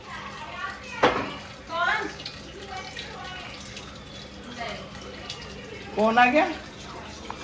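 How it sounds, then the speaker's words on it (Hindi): Tap water running steadily in a home to fill a clay water pot, a low continuous wash beneath a woman's and children's voices. "उधर मैं पानी भर रही हूँ क्योंकि घड़े में हो गया पानी खत्म"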